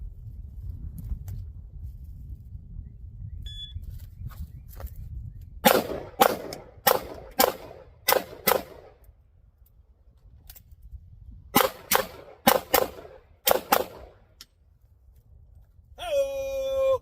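A police trade-in handgun fired at targets outdoors: two quick strings of sharp, loud shots, four or five in each, split by a pause, with steady low background noise and a brief tone near the end.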